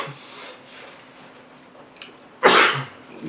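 A single sharp sneeze bursts out near the end, loud and close, after a stretch of quiet room noise.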